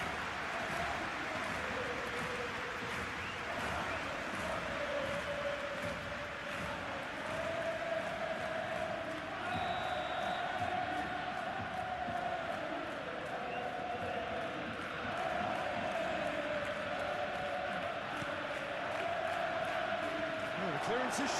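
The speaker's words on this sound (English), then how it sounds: "it certainly got the crowd going" Stadium crowd noise in the PES 21 football video game during a Barcelona versus Athletic Club match, a constant loud roar with rising cheers that stays steady throughout.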